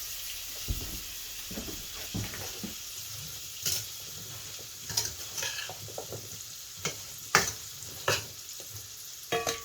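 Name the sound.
apples caramelizing in melted butter in frying pan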